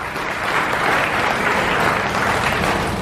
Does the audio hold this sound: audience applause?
yes